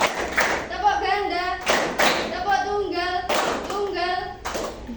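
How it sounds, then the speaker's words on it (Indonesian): Schoolchildren in an Islamic primary classroom perform rhythmic single and double claps in short unison bursts, close and fairly loud, alternating with a teacher's calls and children's voices. "Tepuk tunggal, ganda."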